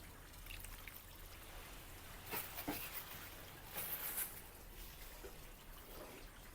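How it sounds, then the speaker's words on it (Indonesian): Water poured onto a cocopeat block, a soft trickling and splashing that swells in a few brief louder bursts over a steady low background hum, close by with no talk. "Dan kita siram."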